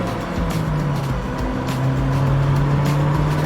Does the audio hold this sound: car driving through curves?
yes